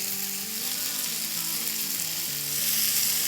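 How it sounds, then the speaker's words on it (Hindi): Chicken boti pieces fry and roast in a pan, a steady close sizzle running throughout with low hum and faint clinks beneath. "और अब इसको हम इसलिए भूनेंगे कि हमारी चिकन जो है उसमें चार आ जाए"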